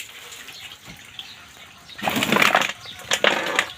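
Water splashes and pours into an animal's container behind a house, in two short noisy bursts that follow a quiet, faintly rustling start, with no talk.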